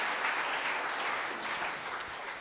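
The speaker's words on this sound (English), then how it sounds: "About a round of applause to them." A congregation in a chapel applauds the choir and organist, a steady, even wash of many hands clapping together throughout, with no voices over it.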